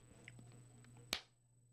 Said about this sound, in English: and then you clap